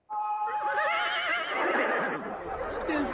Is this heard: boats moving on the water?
no